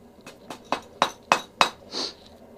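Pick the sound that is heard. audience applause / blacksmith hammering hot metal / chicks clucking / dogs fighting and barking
blacksmith hammering hot metal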